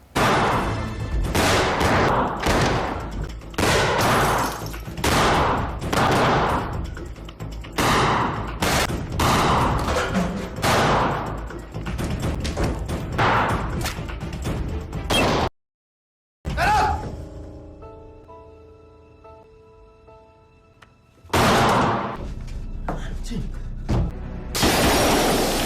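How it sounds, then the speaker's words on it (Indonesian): Shootout in a 2009 Indonesian action film, rapid bursts of gunfire and shattering glass packed together at loud, close range, broken by a sudden silence and a quieter tail before firing resumes. "Setelah Jarod menyadari dirinya yang sedang dikepung pun langsung bergegas pergi dan baku tembak pun terjadi."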